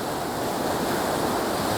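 Waves on a flooded river rushing in a steady, loud broadband wash, with wind buffeting the microphone, continuous and close with no talk.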